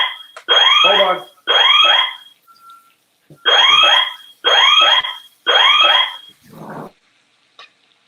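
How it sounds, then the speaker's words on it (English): An indoor smoke alarm shrieks while a steak is pan-cooked, loud, close, piercing beeps in a rhythmic pattern of five long bursts with a short pause after the first two. "We got a fire alarm popping here."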